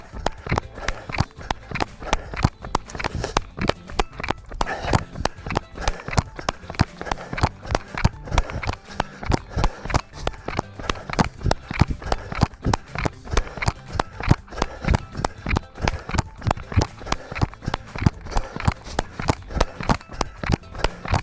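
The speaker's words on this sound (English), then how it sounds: "The teleclicking noise you can hear, probably quite irritating, is the cameras and battery pack hitting some jewellery" Rapid rhythmic clicking and rattling of a camera and battery pack knocking against neck jewellery during a run, keeping a steady running cadence throughout with breathing and footfall noise underneath.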